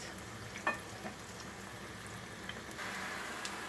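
Quiet, steady sizzle of eggplant frying in oil, with a few small pops and a slight rise in crackling toward the end.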